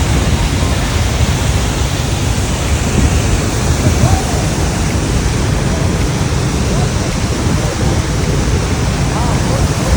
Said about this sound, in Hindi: वाटरफॉल का साउंड तो आप सुन ही सकते हैं